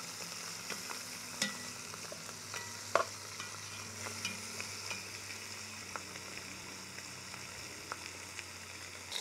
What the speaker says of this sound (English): So I'm gonna go ahead and braise these right now and then go from there.